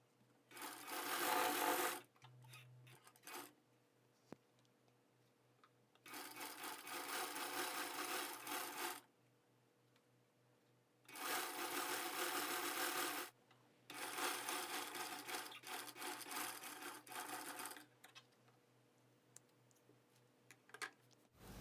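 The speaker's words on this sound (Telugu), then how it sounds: "నెమ్మదిగా మనం ఈ థ్రెడ్ని ఇలా సైడ్ని పెట్టి ఒక 1/4 ఇంచ్ ఇలా ఫోల్డ్ చేసుకుంటూ స్టిచ్చింగ్ చేసుకుంటూ" A sewing machine stitches thread piping for a blouse in four bursts of rapid steady whirring, each lasting a few seconds. Quiet pauses with faint handling of the fabric fall between the bursts.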